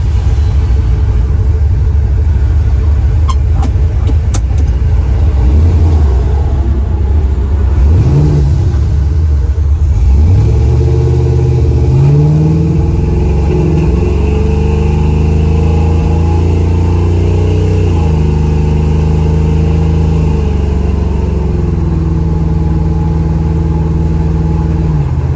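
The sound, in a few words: 1972 Chevrolet Nova engine driving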